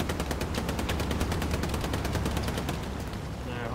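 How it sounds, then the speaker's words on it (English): Dense, rapid gunfire rattles through a Hell Let Loose battle, with overlapping automatic bursts and shots filling the scene loudly before easing slightly near the end, and a voice briefly heard beneath. "Taking contact right, taking fire from the right."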